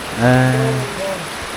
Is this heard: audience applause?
no